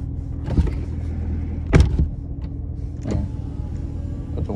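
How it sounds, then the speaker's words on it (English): A Corvette's power window runs down with a low motor hum and a few clunks and knocks along the way, short and fairly close inside the car, with no talking. "Put the window down."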